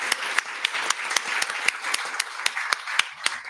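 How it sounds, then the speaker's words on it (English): An audience at a Sandusky city commission candidate forum gives the candidates a round of applause: sustained clapping from many hands, with sharp individual claps standing out above a dense, steady wash. "let's give a nice round of applause for our candidates tonight."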